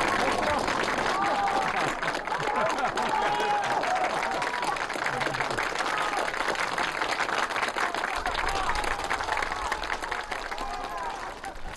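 A crowd of villagers applauds a village election result with sustained, loud, even clapping that carries on without a break, mixed with murmuring voices.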